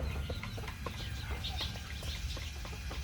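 Native hens cluck softly in a backyard, short scattered clucks over a low, busy outdoor background.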